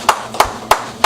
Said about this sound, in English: I appreciate the pretty clap